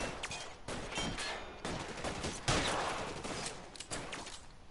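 Rapid gunfire from a PS4 shooter video game: dense, overlapping bursts of automatic shots crackle loudly and continuously for several seconds, with no talking.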